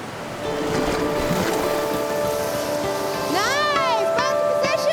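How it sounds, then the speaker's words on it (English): White water rapids on the River Tay rush with a steady broadband roar, while voices call out over the churning water. "the beautiful River Tay changes from a languidly flowing river into a series of rapids"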